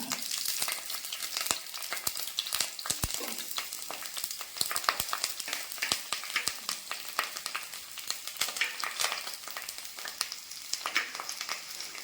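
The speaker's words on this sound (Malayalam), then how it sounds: "അപ്പം എണ്ണ ചൂടായിട്ടുണ്ട്. ഇതിലേക്ക് നമുക്ക് ആദ്യം ഇഞ്ചി ഇട്ട് കൊടുക്കാം." Chopped ginger sizzles and crackles steadily in hot oil for a seer fish curry, a dense, close frying hiss with scattered sharp pops and spatters throughout and no talking.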